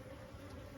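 Wild bees at a large desert hive in the cavity of a big old tree buzz steadily and close, a dense agitated drone with no talking.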